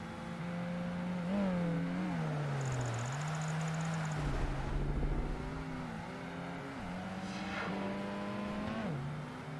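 Race car engine in Project Gotham Racing 2 on a wet track, droning steadily throughout and rising and falling in pitch through gear changes and revs, with a brief scraping burst midway.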